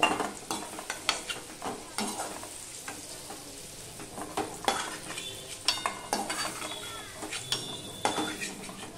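A spatula scrapes and knocks in a pan as fried papaya and potato pieces are lifted out, with soft sizzling underneath and sporadic close clatter of utensil on metal.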